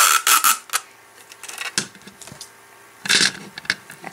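Scissors snip through a large piece of adhesive tape in short, crisp crunching bursts, close and fairly quiet, with pauses between the cuts and a couple of handling rustles.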